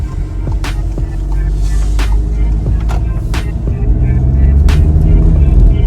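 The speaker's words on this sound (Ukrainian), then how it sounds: "Зараз я стартану і поїду" A Skoda Octavia A7 2.0 TDI diesel with a DQ381 gearbox on a rough road gives a loud, steady engine drone that swells slightly toward the end as it pulls away, with intermittent clicks and knocks over it.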